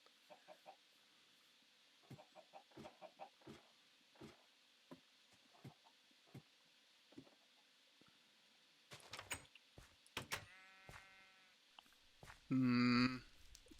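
Faint clucking of Minecraft chickens taps out irregularly, then a cluster of short bleats from Minecraft sheep in a pen rises near the end, closing with one loud, close bleat.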